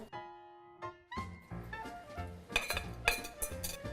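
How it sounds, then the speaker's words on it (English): Metal utensil whisking eggs in a nonstick skillet, quick scraping clinks and taps against the pan in an irregular rhythm, close and fairly quiet, with a ringing metallic tone at the start. "Once your eggs go in, immediately start whisking."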